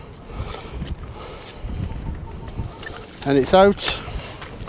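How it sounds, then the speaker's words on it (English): Wind buffets an outdoor microphone in a harvested maize field during metal detecting, a constant low rumbling gusty roar, briefly joined by a short burst of speech and a detector tone near the end. "Apologies about the wind, folks, again"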